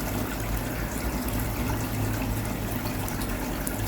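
Water from a koi pond pump outlet pours and splashes continuously, close and steady, with no voices over it.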